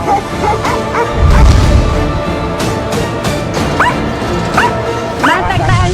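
A small-breed dog barks and yips repeatedly on an outing, sharp bursts spaced irregularly alongside whimpers, close and fairly loud, with people talking in the background.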